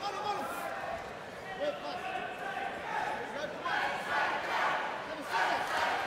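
A stadium crowd at a 68kg fight at the Eventfinda Stadium on Auckland's North Shore chants in a broad rising roar that swells and surges, with a commentator's voice talking over the din.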